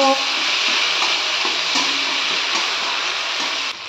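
Ground spice paste frying in a pan for an ilish fish curry with green banana and potato, a bright continuous sizzle with soft stirring scrapes, close and fairly loud.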